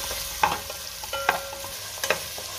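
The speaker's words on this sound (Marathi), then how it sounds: "कांदा आपल्याला 2 मिनिटं परतून घ्यायचा आहे" Onion sautéing in two spoons of hot oil for a chicken rassa, a steady soft sizzle broken by several sharp scrapes and clinks of a spoon stirring the pan, with no talking.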